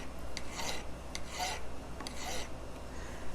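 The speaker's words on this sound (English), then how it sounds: "listen to the noise that your file makes as you're filing it" Hand file rasping over a silver jewelry solder joint, with steady back-and-forth strokes making a thin, tinny scraping in an even rhythm, close and alone without talk.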